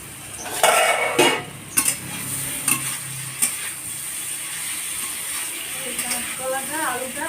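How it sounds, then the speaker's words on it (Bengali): Green banana and potato fry in oil in a pan, a steady sizzle broken by several sharp scrapes and clinks of a utensil stirring, close up, with brief talk in the background. "কাঁচকলাটা আলুটা ভাজা ভাজা হয়ে গেছে।"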